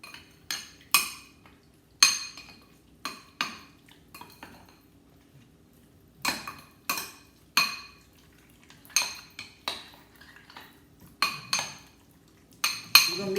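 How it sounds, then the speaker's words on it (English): Raw beef being mixed by hand with sesame seed oil marinade in a bowl, with a dozen or so sharp clinks of utensils against the dish in irregular bursts, close and fairly loud, no talking. "Going to mix the beef up with everything real well."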